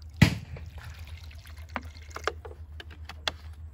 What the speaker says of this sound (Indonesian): di sini yang pertama kita masukkan larutan atau cairan PSB sebanyak 100 ml